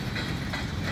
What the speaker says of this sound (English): Rolling down the track.